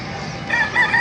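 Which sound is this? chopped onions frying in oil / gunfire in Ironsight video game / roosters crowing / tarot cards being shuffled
roosters crowing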